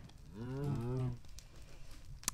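A Minecraft cow lets out one loud, drawn-out moo that rises and falls, followed by quieter game ambience and a brief sharp click.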